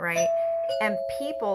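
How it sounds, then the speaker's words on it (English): A doorbell rings with a steady, sustained chime tone that carries through the whole moment, sitting under a person talking continuously over it. "sorry about the doorbell, guys."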